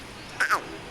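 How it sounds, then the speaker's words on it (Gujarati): A peahen gives a short, loud two-part call, a rising then falling nasal cry lasting about a quarter second, standing out clearly over a quiet outdoor background. "ચલો મોરલી બતાવીએ"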